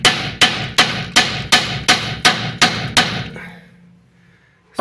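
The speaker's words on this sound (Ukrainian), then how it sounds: "Чим важчий молоток, тим краще у нас" Nine sharp, evenly spaced hammer blows ring out on metal while replacing a Skoda Octavia's front shock absorbers, each with a short metallic ring, followed by a quiet pause and one more faint hit.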